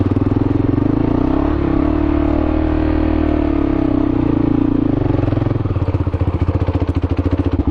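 Kawasaki KLR650 motorcycle engine running close and loud with a steady, throbbing idle that turns into a pulsing, choppy beat near the end, with no talk over it.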